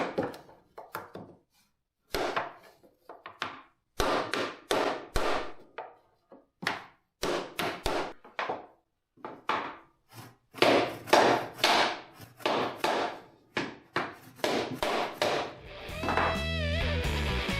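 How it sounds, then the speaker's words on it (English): A hammer whacks repeatedly on clamped wooden speaker-cabinet parts, landing in bursts of sharp, loud knocks with short pauses between them, ending in a rattling scrape as the piece gives way. "Try a few dozen whacks."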